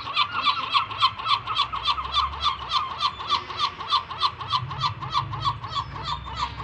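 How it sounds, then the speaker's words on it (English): Loud, rapid repeated squawking calls from a flock of gulls fighting over bread in winter in Old Town Riga, Latvia, rhythmic and insistent, with faint low rumble underneath. "a lot of gulls fighting for a piece of bread"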